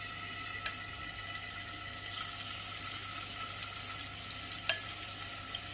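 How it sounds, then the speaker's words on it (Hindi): Marinated paneer pieces frying lightly in a shallow pan of oil, a steady soft sizzle with faint crackles, close and continuous with no talking. "हमने जो ये पनीर रखा था मैरिनेट करके इसको हम हल्का सा फ्राई कर लेंगे, डीप फ्राई नहीं करना है"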